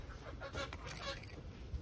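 A broody hen squawks and honks in short bursts as she is picked up, faint and close, against a noisy background.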